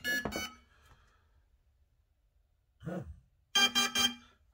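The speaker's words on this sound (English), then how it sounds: "I'm not using a beeper on this quad, I'm using just the motor beep" Quadcopter drone motors beeping as a ready signal from a Fettec FC G4 flight controller, a short tonal chirp at the start, then a single beep and a final run of three quick beeps, clear and close.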